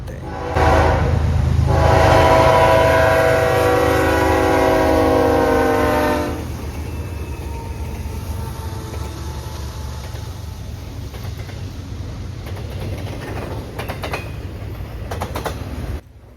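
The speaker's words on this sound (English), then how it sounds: "Let's let this first BNSF train pass" A loud train horn blasts for several seconds, then a heavy BNSF freight train keeps rumbling and clattering past at close range.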